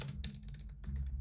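Quick bursts of keystrokes on a computer keyboard, close and crisp, several rapid clicks in two short runs with a brief pause between.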